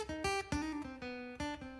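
An electric guitar played dry, without a Fishman Pro EQ Mini pedal, picks out several bright, ringing notes and chords in an uneven rhythm, close and fairly quiet, with no talking.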